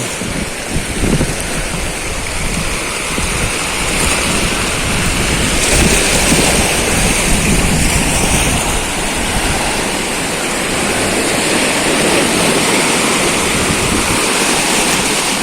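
Ocean waves splash and wash onto the shore at General Nakar, Quezon, making a loud, continuous, close rushing surf with no speech.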